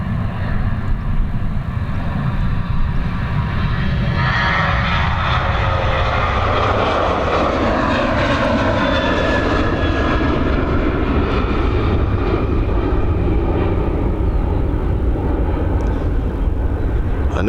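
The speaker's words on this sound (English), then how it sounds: "We've got this Ryanair Boeing 737 on departure now." A Ryanair Boeing 737 takes off from Dublin Airport with a loud, sustained jet engine roar that holds steady throughout, a broad rumble with rising tonal whine, close and continuous with no talk.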